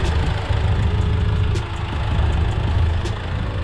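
A 2009–2014 Acura TSX (CU2) idling through a test pipe into the stock exhaust tip, giving a steady, close, low rumbling drone with even vibration and no talk.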